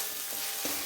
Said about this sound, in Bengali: এরপরে আমি মশলাগুলোকে একসাথে মেশানোর পর ভালো করে ফ্রাই করব।